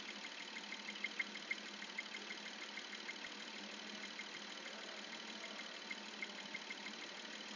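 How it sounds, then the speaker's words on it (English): A 2002 Porsche Boxster S with a cold 3.2-liter engine idles steadily under repair, a faint, even hum with a light ticking texture and no voices. "the engine is running very smooth"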